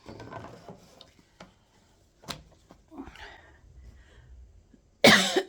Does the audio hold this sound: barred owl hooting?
no